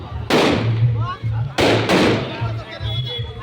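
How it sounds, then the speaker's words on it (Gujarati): Firecrackers bursting at a Ram and Krishna birth festival celebration: several loud, close sharp bangs in quick succession, two of them nearly back to back, over a steady crowd murmur and voices. "ફોડે છે અત્યારે ફટાકડા"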